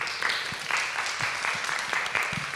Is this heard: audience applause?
yes